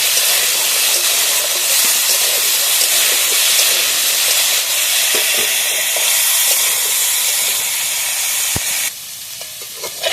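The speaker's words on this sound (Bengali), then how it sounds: "আলুটা ভালোভাবে ভাজা ভাজা করে নিয়েছি" Potatoes fry in a pan with a loud, steady, close sizzle and hiss and a few faint stirring clicks; the sizzle drops sharply near the end.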